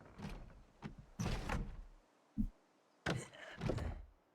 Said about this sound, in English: I doubt the door is going to work, but we're going to try it.